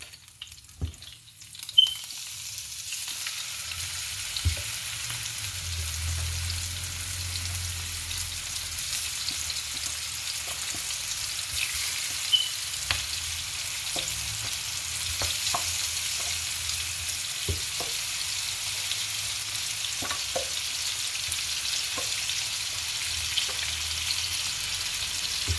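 Chicken pieces for chicken tikka masala sizzling in a pan, a steady close hiss of frying with occasional sharp pops and crackles throughout.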